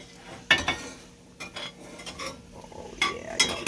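A big spoon scrapes and scoops canned corned beef hash into cups, with a few distinct metallic clinks and scraping strokes against the pan, close and clear with no talking.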